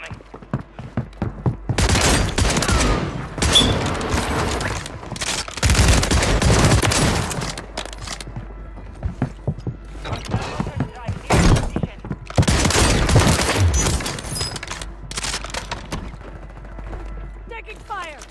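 Heavy gunfire in Call of Duty Warzone on Rebirth Island, loud bursts of rapid automatic fire and shots coming in several dense clusters, with short pauses between them, close and dominant throughout.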